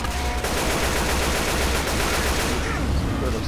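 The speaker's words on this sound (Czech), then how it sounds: "Nejlepší zbraň asi pro mě je tak M16, protože má větší kapacitu, když střílí" Dense, continuous rapid-fire M16 rifle gunfire in the video game Left 4 Dead 2, rattling bursts filling the whole stretch, loud and close, with a brief high tone at the start.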